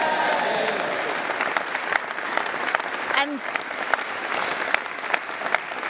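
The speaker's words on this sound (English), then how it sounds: "There's a big cheer for that." Audience at a political speech applauds, a loud, sustained wall of clapping with sharper individual claps popping out, a few voices and cheers mixed in and a brief word spoken near the start.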